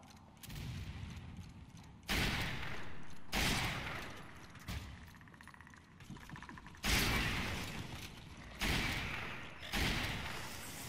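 Heavy gunfire against Licker enemies in Resident Evil 5 Mercenaries at the Experimental Facility, with several loud, booming shots and bursts spaced a second or two apart, each trailing into a rumble.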